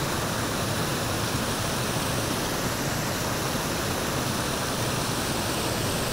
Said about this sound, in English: It's kind of more of a rapids.